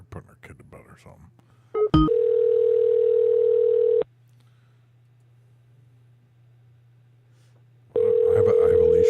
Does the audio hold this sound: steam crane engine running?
no